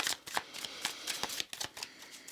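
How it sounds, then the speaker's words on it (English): A deck of tarot cards being shuffled, with a rapid series of crisp riffling and slapping bursts spread across about two seconds, close and fairly quiet, with no talking. "Just felt like I should do a good shuffle here."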